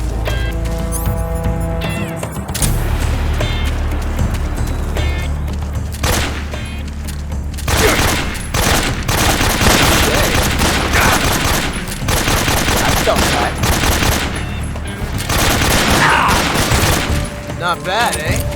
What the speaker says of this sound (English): Let's shoot it out some more.